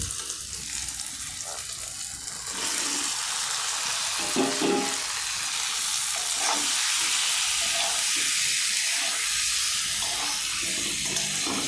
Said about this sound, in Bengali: ডিম আলু সব কষে নিয়েছি ভালো করে